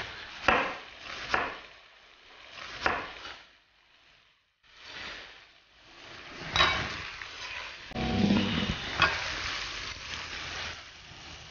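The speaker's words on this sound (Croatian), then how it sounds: "Sad ćemo najprije narezati luk na ploške." An onion is sliced into rings on a wooden cutting board, giving repeated knife strikes in uneven bursts, close and moderately loud, with some light clatter of kitchen utensils.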